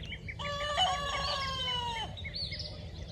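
A young Australorp rooster attempts a crow, one wavering, strained cock-a-doodle-doo lasting under two seconds. The call is near and clear over a low background hum, and a few faint clucks and chirps follow it.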